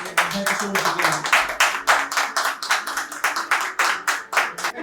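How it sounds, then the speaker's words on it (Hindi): An audience at an open mic night claps for a performer, a sustained round of close, fairly loud applause with a rhythmic pattern and voices mixed in. "एक बार जोरदार ताली इनकी शानदार सी तारीफ के लिए शुरू हो चुके हैं।"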